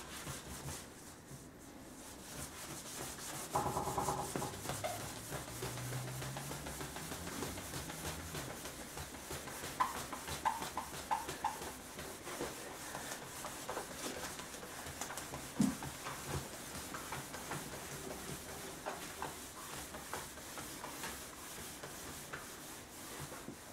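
A hand works a finish in steady rubbing and polishing strokes, a soft, continuous scrubbing that carries on for over twenty seconds at close range, fairly quiet, with no talk.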